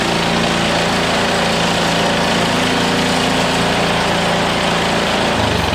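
A Craftsman small engine runs loud and steady just after its pull cord was replaced, a continuous buzzing drone close by.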